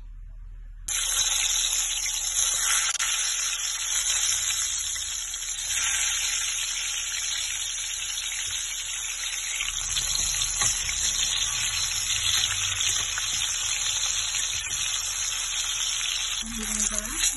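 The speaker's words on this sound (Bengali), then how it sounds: "বেগুনটা ভেজে নেব।" Brinjal frying in mustard oil in a wok gives a steady, loud, hissing sizzle that runs unbroken from just after the start to the end, with faint stirring and no talking.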